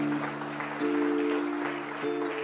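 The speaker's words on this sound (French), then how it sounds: "On peut applaudir le Seigneur pour ceux et celles qui ont donné leur vie au Seigneur." A church congregation applauds, a soft, continuous patter of hands running beneath sustained keyboard or organ chords that shift pitch a few times.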